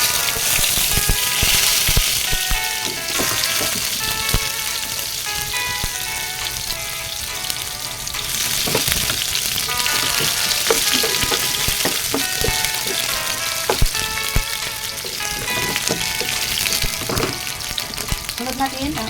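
Onion sizzling in a pan with already-fried carrots and potatoes, a loud continuous crackling fry with scattered pops and occasional stirring clatter, close up and without talk.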